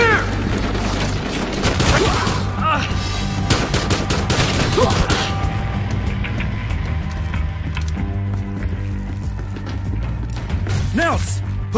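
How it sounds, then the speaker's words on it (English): Video-game gunfire in a Miami crime shootout, with bursts of rapid shots and sharp cracks running through most of the clip at steady, loud volume, under shouting voices and a low droning backdrop. "Shots fired! Shots fired!"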